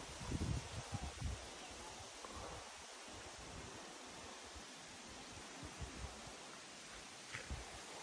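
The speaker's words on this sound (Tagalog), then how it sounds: "Huni ng hibon, saka hangin." Wind gusts and rustling leaves by a river, a broadband outdoor wash at moderate level with a few low gusty rumbles early on and no voices.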